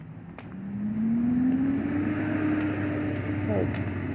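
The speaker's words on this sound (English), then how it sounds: "A big truck across the street." A big truck passes across the street at moderate distance, its engine tone rising gradually as it rolls by, over a low background rumble.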